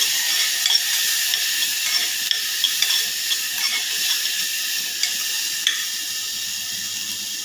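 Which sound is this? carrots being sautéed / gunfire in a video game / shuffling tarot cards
carrots being sautéed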